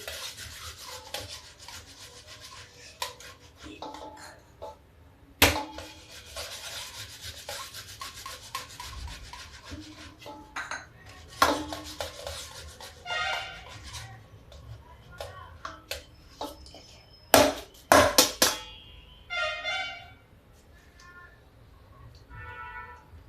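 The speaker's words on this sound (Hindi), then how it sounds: "पहले मैं आलू कद्दूकस करूँगी।" Potatoes grated by hand on a kitchen grater for a fasting-day recipe, with repeated rough rasping strokes interrupted by sharp knocks and clatters. Someone talks intermittently between strokes.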